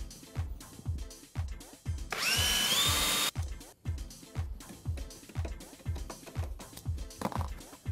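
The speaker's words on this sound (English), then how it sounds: "Now I'm using a handheld screwdriver here so I don't over tighten it." A handheld screwdriver drives screws into a double wardrobe during assembly, making close, regular ratcheting clicks in a steady rhythm, broken by one loud whirring burst about a second long.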